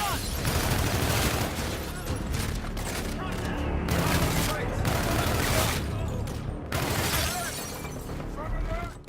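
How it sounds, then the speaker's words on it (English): Sustained heavy fire from Aegis defense guns in Infinite Warfare shooting down a fleet, a dense, continuous barrage of blasts and crackling debris with speech faintly underneath. "ZF is using our Aegis guns to shoot down the fleet."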